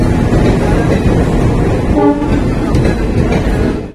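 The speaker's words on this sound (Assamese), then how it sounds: "আৰু এইফালে আহি পালেহি ট্ৰেইন" A train pulls into Civil Chapori station in Assam, its loud rumble steady throughout, with a brief horn-like tone near the middle and the clatter continuing to the end without talk.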